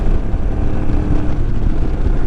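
A Royal Enfield Himalayan motorcycle cruises at about 60 mph, its engine a steady loud drone mixed with heavy wind rush throughout.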